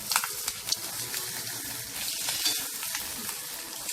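Egg masala with squeezed lemon juice being mixed in a hot pan, a continuous sizzle with soft scraping stirs and a few sharp clinks near the start, no voices.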